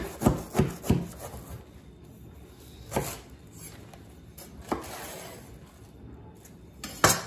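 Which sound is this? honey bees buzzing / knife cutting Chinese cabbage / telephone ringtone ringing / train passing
knife cutting Chinese cabbage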